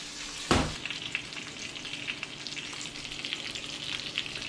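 Duck legs sear in a hot pan for a braise, their fat rendering out with a steady close sizzle and a sharp burst of crackle at the start.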